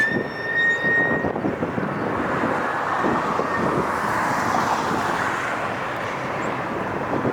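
An airliner landing at LAX with its landing gear down: a loud, steady roar of jet engines and rushing air that holds close and constant, with a brief high whine at the start and no talking.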